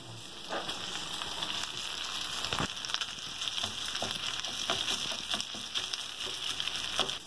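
Spam and rice frying in a pan: a steady, close hiss and sizzle with scattered scraping and stirring clicks, continuous throughout with no talking.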